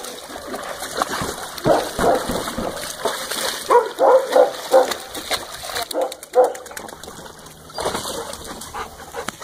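Dogs bark and yip in bursts while splashing through water indoors, the barks close and irregular over a continuous wet churning, with a person's voice briefly in between.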